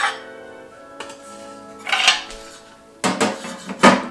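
Metal baking tin being lined and handled: a few sharp metallic clinks and rattles, close and distinct, separated by quiet pauses.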